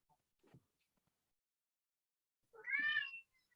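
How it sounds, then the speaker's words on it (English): A domestic cat cries with one drawn-out meow, heard alone in a quiet room after a brief faint earlier sound. The meow is moderately close but not loud. "And that's my cat, George, crying in the background"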